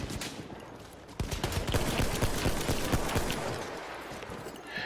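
Gunfire in Battlefield 1 crackles as a dense, continuous fusillade of rapid shots and bursts over several seconds, loud and close and overlapping with no pauses.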